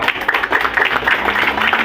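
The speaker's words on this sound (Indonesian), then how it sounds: "ya, tepuk tangan untuk Papua." Crowd at a political rally clapping for Papua, a brief dense burst of applause, close and fairly loud, with no clear speech over it.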